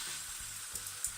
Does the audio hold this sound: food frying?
yes